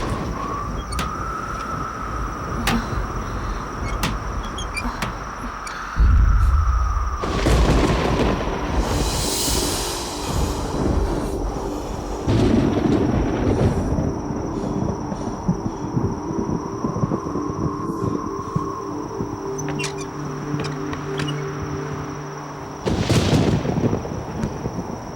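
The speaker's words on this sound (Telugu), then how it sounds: "ఆ రోజు పిడుగులు ఉరుములు బాగా గాలి," Thunderstorm with strong wind: several heavy, booming thunder claps break through at intervals over a steady rushing backdrop, with music playing throughout.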